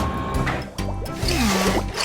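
Cartoon-style soapy scrubbing of a truck covered in oil and algae, with wet squishing, bubbly liquid sounds and a rising squeaky slide, moderately loud and without talking.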